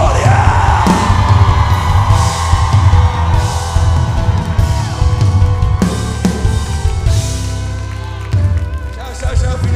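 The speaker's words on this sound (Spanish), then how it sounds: "Todas las mujeres den un grito de victoria." Women in a church congress crowd shout a loud, sustained cry of victory, a dense wall of yelling and whooping that carries over music throughout.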